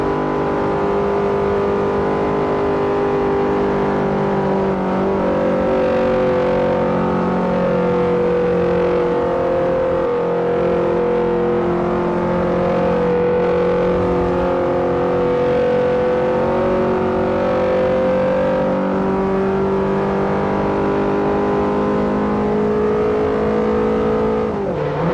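A car engine drones steadily in Forza 4, the tone holding and shifting slightly as the vehicle drives on, loud and continuous with no talking.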